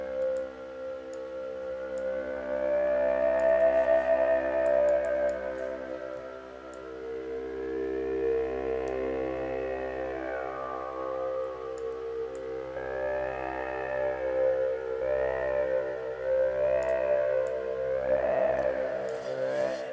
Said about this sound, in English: let's add a reverb after it